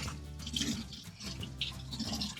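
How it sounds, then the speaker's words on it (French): Cold, clear tap water runs over a salmon fillet in a kitchen sink, a steady splashing rinse with brief surges, close and alone for a couple of seconds. "à l'eau froide et à l'eau claire du robinet, on va tout simplement le rincer"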